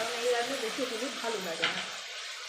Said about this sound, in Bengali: তো আমি সব কিছু একসাথে মিশিয়ে নিচ্ছি